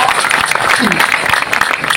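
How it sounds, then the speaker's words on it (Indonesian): An audience claps steadily for NU Batam residents, dense applause filling the whole moment, with voices blended into the crowd noise. "Tepuk tangan untuk warga NU Batam, ini luar biasa"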